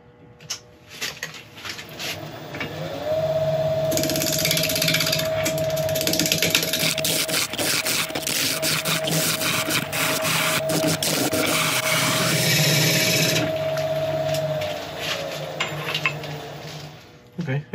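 A laburnum log spins on a wood lathe while a gouge cuts away a large lump. The lathe's steady motor whine rises as it spins up and later falls away, with scraping, chattering cutting noise over it throughout.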